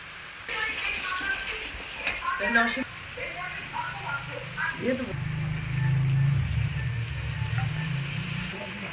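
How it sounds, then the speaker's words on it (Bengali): Spice paste frying and being stirred in a pan with mango pieces and a little water added, giving a steady sizzle with scraping stir strokes, while a person talks over it close by. "এবার মশলাটা ভালো করে আমি কষাতে থাকবো।"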